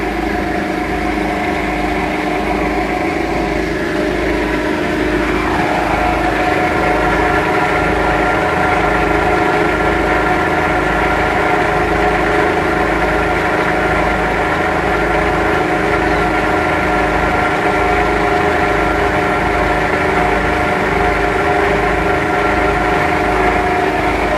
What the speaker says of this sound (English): this tractor powers these drums that spin that Basra head around really fast